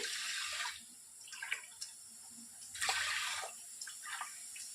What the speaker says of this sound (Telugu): ఏ గ్లాస్తో అయితే మనము బియ్యాన్ని తీసుకున్నామో అదే గ్లాస్తో 8 గ్లాసెస్ వరకు వాటర్ని వేసుకోవాలి